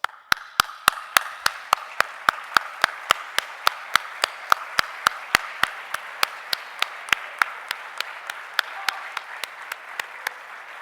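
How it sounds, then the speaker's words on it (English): Graduates of Newton International Academy Barwa's class of 2026 clap for their families and teachers at the graduation ceremony, with sharp, evenly spaced claps at a steady rhythm over a soft bed of crowd applause, fairly close and without talk. "Graduates, please stand up, turn around, and join me in applause."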